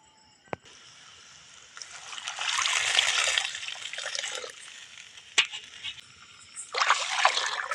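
Water poured into a pot while cooking rye (kambu) upma, a steady trickling and splashing that builds for several seconds, near and moderately loud, with a few sharp knocks of the vessel.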